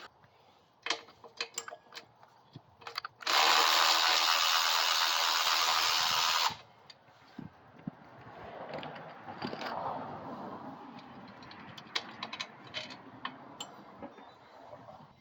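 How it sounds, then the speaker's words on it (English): A socket ratchet loosens the drum bolt on a Coleman BT200X mini bike: scattered close clicks and taps, then a loud three-second burst of rapid ratcheting whir, followed by quieter fiddling and clinks. "Now I got a bolt down here that holds the drum in place. We'll get a socket on that."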